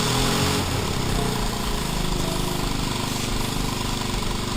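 A Geo Metro engine running and warming up after a head gasket repair and broken head bolt fix, a loud, close, steady rattling idle throughout.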